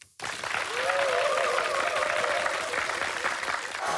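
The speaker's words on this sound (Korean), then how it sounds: "1강의 문을 여러분의 큰 박수로 열겠습니다" A lecture hall audience breaks into sustained applause to open a talk, a sudden dense wash of clapping that holds steady for several seconds, with a voice faintly speaking through it.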